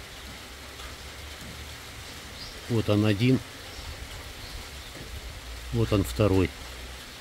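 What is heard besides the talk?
rain pouring down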